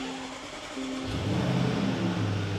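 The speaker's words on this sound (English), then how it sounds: "Jaguar Land Rover's famous 5-litre supercharged V8" A 2021 Jaguar F-Pace SVR's 5-litre supercharged V8 (550 PS) cranks and fires, then settles into a deep, steady rumbling idle, close and loud.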